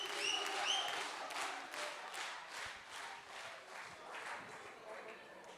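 A television studio audience at a Popstar singing competition claps loudly and continuously, with a few whistles and cheers near the start, the applause slowly thinning toward the end.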